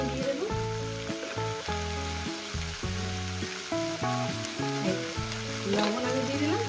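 Banana flower curry fries dry in a pan with no water added, a steady sizzle sitting beneath loud, continuous background music for the whole stretch.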